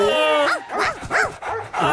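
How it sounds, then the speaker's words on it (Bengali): Cartoon dogs bark and yip in a chase scene, several loud rhythmic barks and whimpering yelps following one another over about two seconds, with a voice talking around them. "আরে অনেকগুলো কুকুর, পাতলু পাতলু পালাও"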